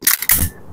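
A Glock 18c Force Series replica pistol fired on semi-auto gives a quick double snap of sharp, close mechanical cracks within a fraction of a second, then a short fading tail.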